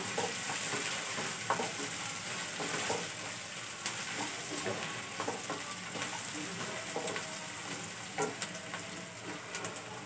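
Spices sizzle and fry in a pan for masala upma, a steady crackling hiss punctuated by scraping stirs and light clinks of a spoon against the pan, close and continuous, with faint speech in the background.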